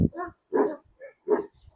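Mavzer, a large Kangal dog, gives three or four deep, close barks in quick succession with short silent gaps between them.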